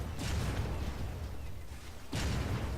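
Fireworks or bombs go off in the Turkish online shooter Zula: heavy booming blasts at the start and again near the end, with dense crackling rumble between them.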